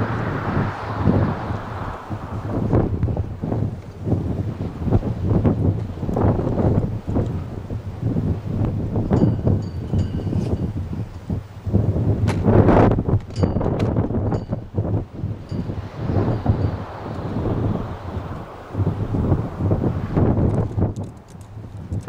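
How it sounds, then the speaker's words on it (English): Strong outdoor wind buffets the microphone continuously, a heavy, steady rumble with gusty surges and rustling throughout, during a wind test at about eleven miles an hour or more, with no voices. "Since our wind speeds have increased, so we were at 11 miles an hour just a little bit ago."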